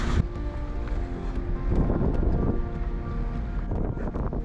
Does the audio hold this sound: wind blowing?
yes